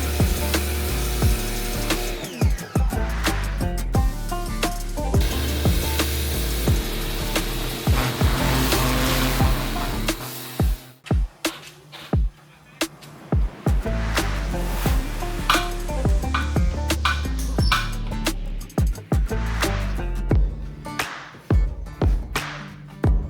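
A dirty, previously repaired Honda CR250R motorcycle frame gets a vigorous scrub: loud, close rasping strokes in quick rhythmic bursts, easing into sparser scrapes and pauses in the second half.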